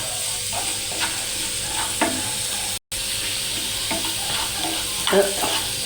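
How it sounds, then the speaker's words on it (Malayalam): Carrot stir fry sautéing in a pan, with a steady close sizzle and occasional scraping stirs of a spoon against the pan, one brief dropout midway. "നന്നായിട്ട് വഴണ്ടി വരുന്നുണ്ട്."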